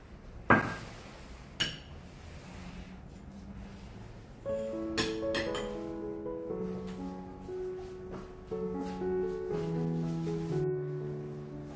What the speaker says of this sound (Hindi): मैं आपको डिश आउट करके खीर दिखाती हूँ